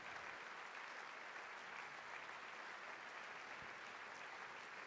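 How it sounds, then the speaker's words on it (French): Sustained applause from a large hall audience welcoming the Vichy municipal council at a New Year's greetings event, an even wash of many hands clapping without a break, heard from some distance. "Vous pouvez les applaudir."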